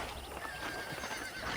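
A horse in the Red Dead Redemption video game neighs and clip-clops at a ranch, a short loud burst of whinnying over hoofbeats with no talk.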